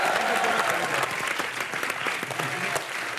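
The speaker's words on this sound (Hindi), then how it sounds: "तालियां बजती रहनी चाहिए" A studio audience at a comedy show claps loudly and steadily for the whole stretch, a dense wash of many hands with a faint murmur of crowd voices underneath.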